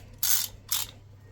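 Wrench torquing a fender mount bolt on an Aprilia Tuareg 660 during a high fender installation: two short, bright ratcheting bursts close by, separated by a brief pause, with no talk.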